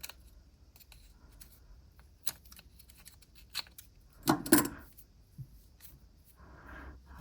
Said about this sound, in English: Use my scissors this time. Just trim off that extra bit there.